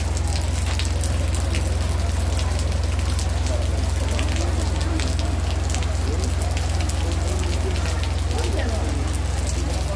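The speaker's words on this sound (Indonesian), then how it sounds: "Pokoknya full hujan hari ini." Heavy rain falls steadily and loudly throughout a Toraja funeral gathering at a tongkonan in Gandangbatu, a dense continuous hiss with drops pattering on surfaces and faint voices underneath.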